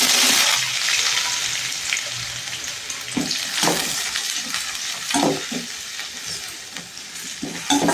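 Onion sautés in oil with cinnamon, cloves and cardamom for a vegetable kurma, a loud, close, steady sizzle with repeated scraping strokes of a spoon through the pan and no voices.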